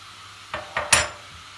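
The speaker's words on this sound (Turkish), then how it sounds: "ilave ettikten sonra bir daha karıştırıyoruz" A spoon scrapes and clinks three times in quick succession against a pot while a şebit mixture is stirred after salt goes in, close and fairly quiet over a low background.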